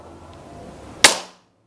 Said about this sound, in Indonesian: tembakan yang kedua kita lihat